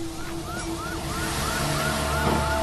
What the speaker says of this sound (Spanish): Podía oír a otros coches de la policía que se acercaban